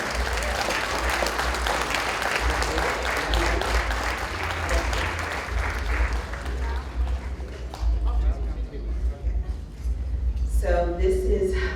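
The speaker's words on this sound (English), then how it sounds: "Please give a congratulatory applause for our community service leader, Dr. Mondesir." Sustained applause from a crowd at a community awards gala, dense clapping over a low hum, with voices rising and a speaking voice coming in near the end.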